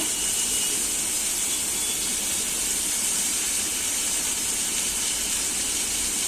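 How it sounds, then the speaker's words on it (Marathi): Tomato, curry leaves, coriander and mint tipped into hot oil for a spicy potato dish, giving a loud, steady, unbroken sizzling hiss. "कोथिंबीर आणि पुदिना सगळं फोडणीला एकदमच टाकले मी"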